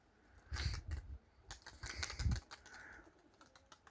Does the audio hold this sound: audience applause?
no